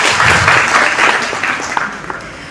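A round of hand clapping from the audience at an Advantage Assam 2.0 event in Nalbari, a loud burst of applause that quickly thins and fades out.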